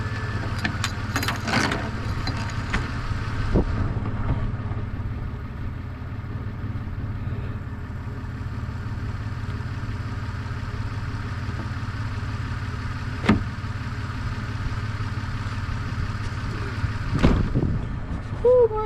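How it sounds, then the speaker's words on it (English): A motor keeps running steadily in a cold outdoor workshop, a low constant hum with wind noise and a few faint knocks and clicks, no speech over it. "Still hear the motor running."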